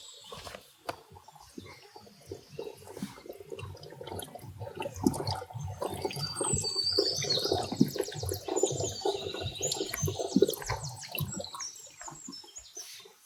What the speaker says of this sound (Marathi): फक्त पाण्याचा आवाज आहे का दगडांमधून चाललेला आहे